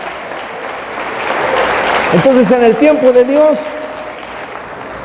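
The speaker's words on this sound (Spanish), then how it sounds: "Dale fuerte el aplauso a nuestro Dios" Church congregation applauding, a broad wash of clapping in the first half, then a voice speaking over the fading applause.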